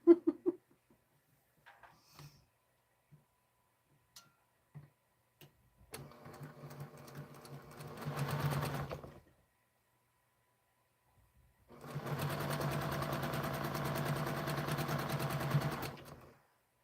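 A sewing machine stitching quilt pieces together, running in two steady bursts of rapid whirring, the second longer, separated by quiet gaps with small clicks and handling noises close by.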